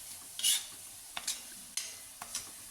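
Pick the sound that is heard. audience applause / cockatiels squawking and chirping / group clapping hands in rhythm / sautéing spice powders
sautéing spice powders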